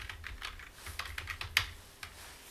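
Keys clatter on a computer keyboard while a name is typed in while setting up an AWS VPC: irregular, fairly close clicks with one sharper strike, no talking.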